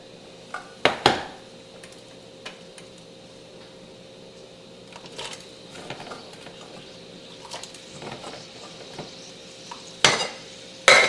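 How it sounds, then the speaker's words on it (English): Broad beans blanching in a pot give a faint, steady bubbling hiss with a few sharp clinks of metal against the pot, and no one speaks. "what I like to do with my broad beans is blanch them for a minute"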